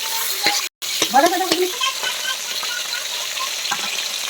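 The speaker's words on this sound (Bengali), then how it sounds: "কড়াইতে একটু তেল দিয়ে দিচ্ছি, দিয়ে এই মাছের মুড়োগুলা ভেজে নেব।" Fish heads fry in a little oil in a wok for a spinach dish, with a steady close sizzle and repeated scraping stirs as a spatula breaks them up.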